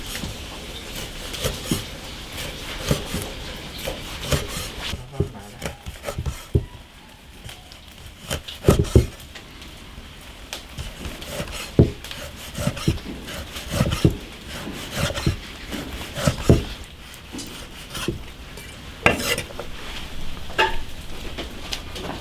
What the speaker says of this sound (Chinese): 腊肉切了再煮更快